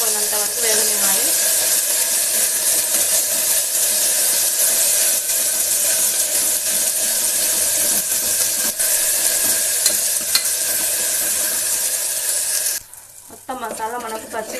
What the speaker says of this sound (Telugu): ఈ మసాలా అనేది మనకు పచ్చి వాసన అంతా పోయినంత వరకు వేగనివ్వాలి